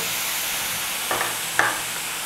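Grated fresh coconut and jaggery are stirred and roasted in a pan over low heat, giving a soft, continuous hiss with two brief scraping strokes close by.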